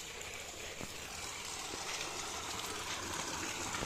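Water runs steadily from an outdoor tap, a constant rushing gush heard at moderate distance with faint outdoor background and no clear speech.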